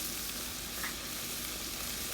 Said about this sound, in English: I'm going to incorporate everything together, mix it in.